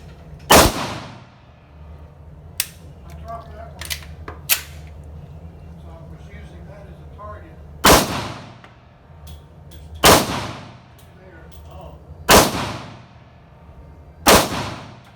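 An FN 57 pistol fires five sharp, loud gunshots at a range, spaced unevenly about two seconds apart with a longer gap after the first, with faint talk and handling noises between shots.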